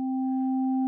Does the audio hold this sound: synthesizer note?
yes